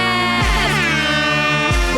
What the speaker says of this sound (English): Always love those air horns.